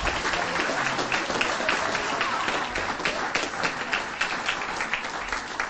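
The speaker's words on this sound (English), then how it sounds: "Let's give everybody a huge round of applause." A school board meeting audience applauds during a recognition of gold medal standards, producing a steady wash of many hands clapping in a sizeable room that holds for several seconds with no talk over it.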